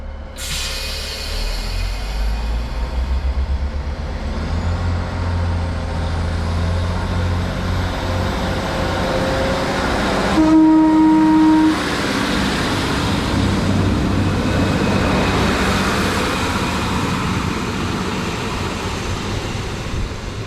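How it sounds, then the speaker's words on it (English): A British Rail Class 156 diesel multiple unit on an East Midlands Railway service rumbles steadily at a Lincolnshire platform, its low engine drone building as it pulls away, with a brief tonal horn-like whine partway through. "156414 goes off again, this time on an East Midlands Railway service"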